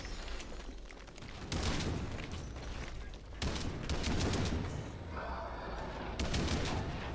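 Sustained commando gunfire in the video game Killing Floor 2, with bursts of rapid automatic shots that stop and restart several times over continuous loud combat noise.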